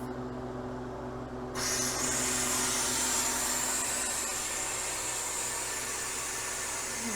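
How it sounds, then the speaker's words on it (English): A constant mechanical hum gives way to a loud, steady rushing hiss of air as a freeze dryer's vacuum releases, continuing without pause. "And let that vacuum release so that we can get the door open."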